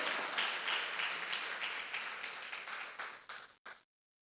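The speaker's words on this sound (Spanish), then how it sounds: "Vamos a darle un aplauso a Él, ¿o no?" A church congregation claps in praise, a broad burst of applause that thins out into scattered claps before ending abruptly.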